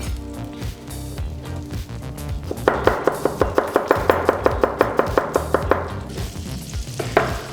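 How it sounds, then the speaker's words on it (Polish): Garlic is chopped on a board with a kitchen knife in a rapid, regular series of about twenty sharp taps, close and distinct over background kitchen noise. "Do tego siekamy czosnek."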